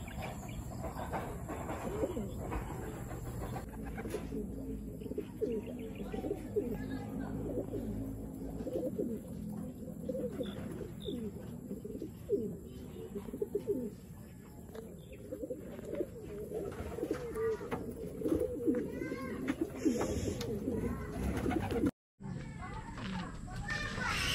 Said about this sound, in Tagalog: Yun mga kalapatids, isa pa hinihintay natin.